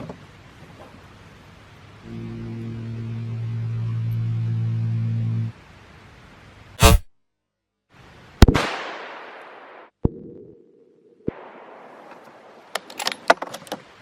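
A Remington 770 rifle in 7mm Remington Magnum fires outdoors at targets including a soda bottle and an AR-500 steel plate, with two sharp, very loud shots a second or so apart, each trailing into a rolling echo, followed by a further bang and scattered clicks.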